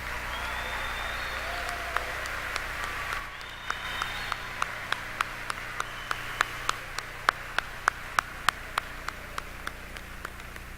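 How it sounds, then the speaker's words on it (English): An audience at a 2018 high school graduation ceremony in Show Low applauds from a distance, the sound fairly faint, with separate sharp claps ringing out over a hall hum. "Can we give Mr. Adams a round of applause for his service?"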